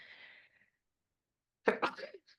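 One sharp, close sneeze bursts out after a soft, breathy intake of air, followed by a short trailing exhale.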